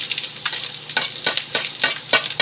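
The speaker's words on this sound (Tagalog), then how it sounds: "Hintayin na natin magpula ang bawang o mag-brown." Garlic fries in a pan for pork sisig, a steady hiss with sharp bursts of stirring at regular intervals, close and fairly loud, with no voices.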